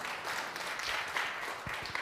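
Crowd applause at a Tuesday night jazz concert in a church goes on steadily for about two seconds as a soft, even wash of claps, with a few low thumps near the end.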